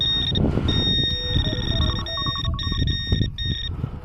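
A mobile phone set to silent rings anyway during outdoor metal detecting, a repeating electronic melody of high tones over loud rumbling wind and handling noise, with no talking.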